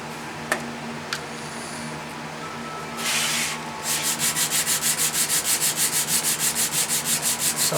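80 grit sandpaper works a flat wooden surface by hand: a few scattered scrapes, a harsh rasp, then a steady run of about a dozen quick back-and-forth strokes, close and loud.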